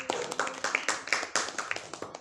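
Applause from a class of seventh-grade students, a quick run of many overlapping claps continuing steadily throughout, fairly close and moderately loud.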